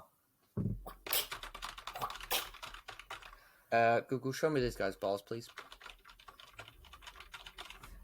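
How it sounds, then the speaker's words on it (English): Rapid clicking keystrokes on a computer keyboard run throughout, close and busy, while someone speaks over part of it. "Really hope you can, because I could hear the typing."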